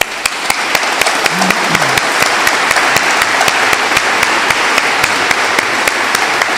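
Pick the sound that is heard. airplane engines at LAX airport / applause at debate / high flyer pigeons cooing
applause at debate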